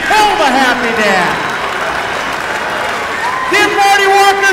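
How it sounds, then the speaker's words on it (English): Crowd applause for the champion of the Pig N Ford races, a broad steady wash of clapping with a loud announcer's voice talking over it at the start and end. "Give him a round of applause."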